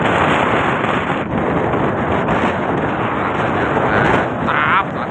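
Strong wind roars steadily across an exposed, vegetation-free trail on Mount Agung in Bali, buffeting the microphone in a dense, constant rush with a few brief dips.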